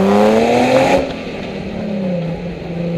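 A 2006 Nissan 350Z with a V6 and aftermarket exhaust revs loudly up close, a rising then falling engine note that drops back toward a lower hum, with no talking.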